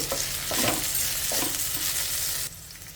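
Okra pieces fry dry in a pan, a close, continuous sizzle broken by scraping stirs of a spatula, steady for most of the stretch before the frying noise drops noticeably quieter near the end.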